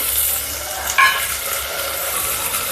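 Soaked peas go into onions that have browned in a pan for foxtail millet pulao, and the pan gives off a steady close sizzle with spoon scraping and stirring and a brief louder clatter partway through.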